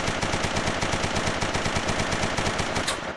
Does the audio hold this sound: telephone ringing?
no